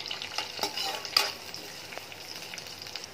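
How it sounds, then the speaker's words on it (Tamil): Onions fry in a pan for Indo-Chinese style egg fried idli, a soft steady sizzle close by with a few light scraping clicks from stirring and no talking. "ஆனியனும் வந்து ஃப்ரை ஆகட்டும்."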